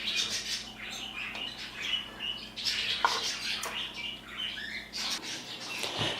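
A pet flock of birds chirping and squawking in a morning indoor setting, a dense, continuous chorus of overlapping tweets and sharp calls, close and fairly loud, with no one talking over it.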